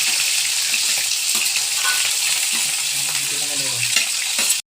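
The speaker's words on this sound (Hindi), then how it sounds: "तेल गरम हो गया, अभी इसमें प्याज और मिर्ची डालेगा।" Onion and chillies frying in hot oil in a pan, giving a loud, steady, close sizzle that runs unbroken through the clip, with faint stirring clinks underneath.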